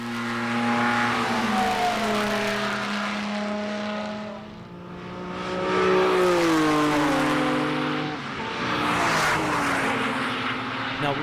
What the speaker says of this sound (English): to see and hear half a dozen Lamborghini V12s go by at 150 miles an hour